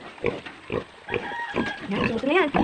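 A pig grunts and snorts repeatedly while eating a first meal of tricantera, close to the microphone, with a person talking over the feeding noises.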